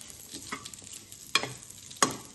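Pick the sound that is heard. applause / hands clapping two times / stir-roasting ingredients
stir-roasting ingredients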